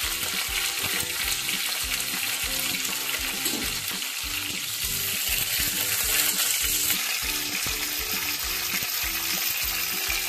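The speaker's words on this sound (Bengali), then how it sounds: "এবারে ভেজে নিচ্ছি, ফুলকপিটা ভাজা হয়ে গেলে অন্য সবজিগুলো সব একে একে ভেজে নেব।" Cauliflower frying in a pan for a navaratan vegetable curry, a steady dense sizzle with soft stirring scrapes running throughout, no voices.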